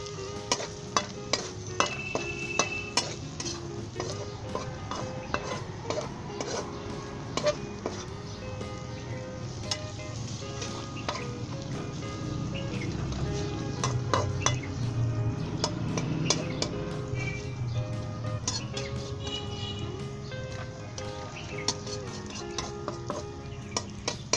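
Potato bhujia masala of salt, garam masala, kalonji, turmeric and chaat masala is stir-fried in a pan. Steady sizzling runs throughout, with frequent sharp clinks and scrapes of the spoon against the pan.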